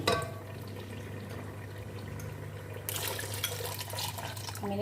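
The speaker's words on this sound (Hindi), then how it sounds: "मैंने इसमें 2 गिलास पानी डाला है।" Water, about two glasses, poured into a pot of egg and chickpea curry: a soft liquid splash swells in partway through, over a low steady hum, with no talking.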